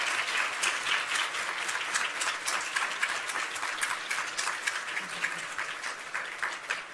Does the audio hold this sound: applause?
yes